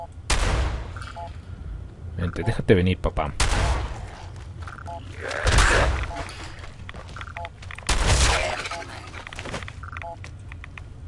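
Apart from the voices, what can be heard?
combat shotgun gunfire in video game Fallout 4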